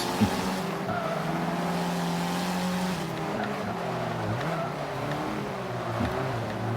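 A Mazdaspeed 3 races around the Top Gear track in Forza Motorsport 5, its engine droning steadily with rising and falling revs through gear changes and brief tire squeal as it approaches a big turn.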